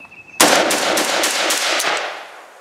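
Galil ARM replica rifle firing at a range with a steel magazine, a rapid burst of about seven loud close shots that fades into ringing echo.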